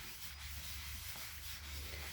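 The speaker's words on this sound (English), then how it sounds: "Now I'm just going to sand it lightly." Steady, faint rubbing of sandpaper lightly working a yellow guide coat over putty on a Mitsubishi Pajero alloy wheel, a continuous soft scratch with slight back-and-forth pulses and no voices.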